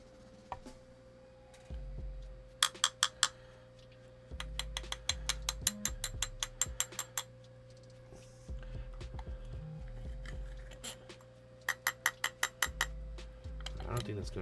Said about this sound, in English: let's grind some cannabis